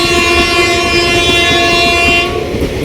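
A Punalur–Madurai passenger train sounds a long, loud, steady horn at a railway line crossing in Edava, Varkala, with rail rumble underneath. The horn fades out just before the end.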